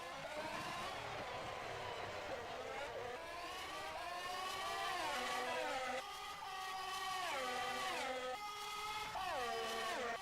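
Ferrari Formula 1 cars race around the Monaco street circuit in the rFactor 2 simulator, their high-pitched engines screaming continuously through repeated upshifts and downshifts, loud and close, with several cars overlapping.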